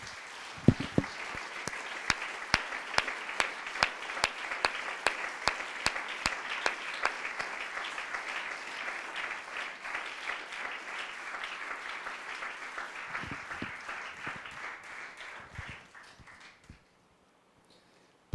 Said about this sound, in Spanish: ¿Por qué no le damos un aplauso a Dios?